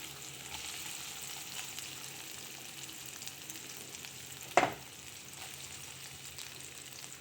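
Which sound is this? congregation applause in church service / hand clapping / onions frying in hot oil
onions frying in hot oil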